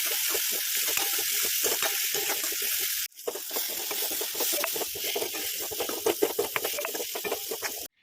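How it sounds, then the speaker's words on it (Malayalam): Onions fry with salt in a pan, a loud, close sizzle that drops away sharply partway through, then resumes with crackling pops and steamy hiss before cutting off. "നമുക്ക് ഈ സവോള പെട്ടെന്ന് ആവാൻ വേണ്ടിയിട്ട് കുറച്ച് ഉപ്പിടാം."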